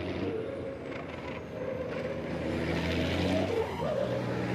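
Racing trucks circle the Bugatti circuit at Le Mans during 2022 qualifying, a continuous loud engine roar that swells and rises slightly toward the end, with no talk over it.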